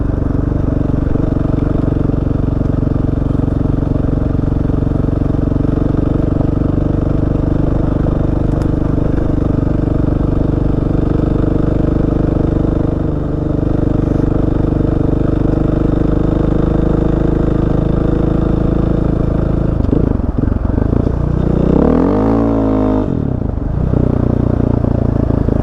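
A learner rides a motorcycle off-road, its engine humming steadily and loud throughout, then revving up sharply near the end with a rising, clattering growl.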